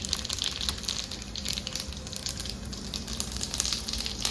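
Whole cumin seeds sizzle in hot mustard oil in a kadai, a faint, even crackle and hiss with brief louder pops, heard alone without speech.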